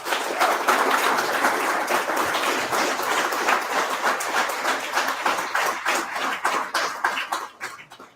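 A crowd at a community meetup in Oslo gives a team sustained, lively applause, dense and close clapping that carries on for several seconds before tapering off.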